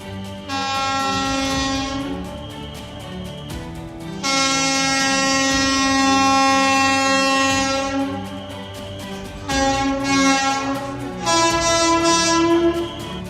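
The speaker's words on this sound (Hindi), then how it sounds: "कटरा श्रीनगर के बीच वंदे भारत ट्रेन" A Vande Bharat train on the Katra–Srinagar line in Jammu and Kashmir sounds a long, loud, multi-tone horn in repeated blasts separated by short gaps, with steady rail rumble underneath.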